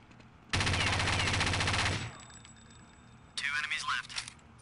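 Automatic gunfire in Counter-Strike: Condition Zero, one loud sustained burst of rapid shots lasting over a second, then a quieter ringing tail and a second shorter, harsher burst.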